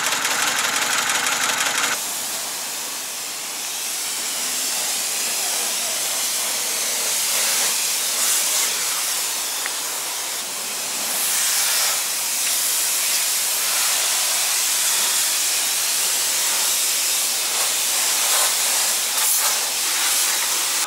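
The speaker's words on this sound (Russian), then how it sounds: "так она работает на холостую, в целом нормально, при том, что это карбюраторный автомобиль" A 1999 VAZ 2104 with a carbureted engine idling, a steady, continuous hissing mechanical drone that stays fairly loud and even throughout with no talking.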